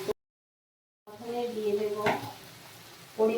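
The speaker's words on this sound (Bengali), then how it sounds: "টমেটোটাও ভাজা ভাজা করে নেব একটু নরম হয়ে এসছে" Tomatoes fry in a pan for moong dal, a soft close sizzle after a brief silence, with a stirring clink midway and a voice talking over it.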